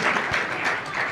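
Applause from an audience at a spoken message on youth problems, a steady wash of clapping that holds at even loudness for about a second, close and alone without speech.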